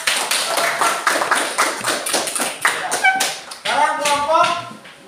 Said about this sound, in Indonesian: Silakan beri tepuk tangan untuk kelompok 2